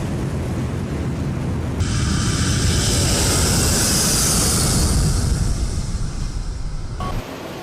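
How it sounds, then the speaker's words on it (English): A US Air Force C-17 transport jet takes off from a Persian Gulf base, a loud, sustained roar of engines that swells and holds steady as it accelerates, with no voices. "C-17 aircraft took off in rapid succession from American bases in the Persian Gulf"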